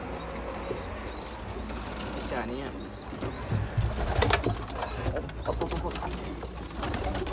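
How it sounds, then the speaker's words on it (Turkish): Pigeons coo repeatedly nearby amid rustling and a brief flutter of wings, with a person speaking briefly over the birds. "güvercinleri de gösterelim bakalım"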